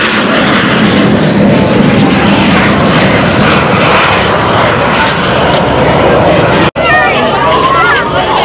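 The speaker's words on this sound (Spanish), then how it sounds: "Esto es un Polikarpov I-153 Chaika. Motor radial" Polikarpov I-153 Chaika biplane with a radial engine at an air show at Sabadell airport: a loud, continuous engine roar fills the whole stretch while a crowd chatters and an announcer talks over it.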